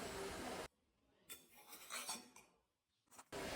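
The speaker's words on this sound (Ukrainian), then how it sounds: "Добре перемішуємо." A utensil scrapes and clinks against a bowl, stirring a cheese, egg, sugar and flour mixture in short irregular bursts, with brief quiet pauses between strokes.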